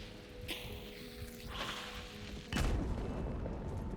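Explosives detonating in the video game Hunt: Showdown 1896, a single loud, heavy boom with a rumbling tail, set against game ambience and a few softer thuds and hisses before it.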